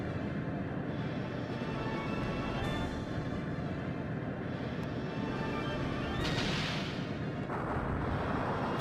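A sub cannon attack in the video game Skies of Arcadia Legends, a dense, continuous roar of booming blasts and rumbling explosions, loud and sustained with sharper bursts near the end.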